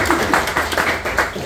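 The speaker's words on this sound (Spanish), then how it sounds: "aprovecho ese aplauso" An audience applauds at a book launch for ENJUNDIA in Ecuador, a dense rattle of many hands with quick rhythmic pulses and a busy crowd wash underneath, lasting about a second and a half.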